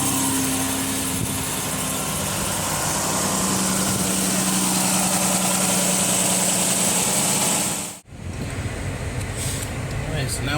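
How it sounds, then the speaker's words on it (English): A 2013 Dodge Charger, recently repaired for an oil leak, drones steadily during a test drive, then the sound cuts sharply and shifts to a rougher, closer engine and road noise. "now we're taking it for a test drive"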